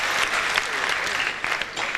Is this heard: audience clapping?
yes